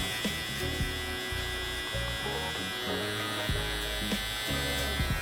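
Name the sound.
electric hair trimmer cutting a guideline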